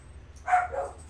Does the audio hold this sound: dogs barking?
yes